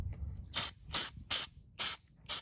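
Anti-seize spray from an aerosol can onto a stud for a turbo manifold on a Caterpillar 3406E engine: five short, sharp hissing bursts in an even rhythm, close and loud.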